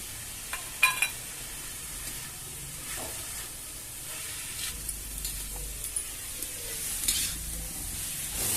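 Cabbage and prawns fry in a pan with a steady low sizzle, broken by scattered clinks and scrapes of stirring; no one speaks.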